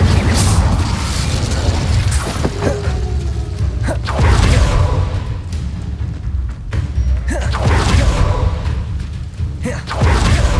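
Incendio fire spell cast in Hogwarts Legacy, heard as repeated loud whooshing bursts and booming fiery impacts over a steady rumbling game soundscape, with other spell effects mixed in.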